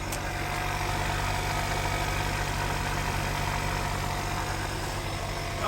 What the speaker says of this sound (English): The compressor.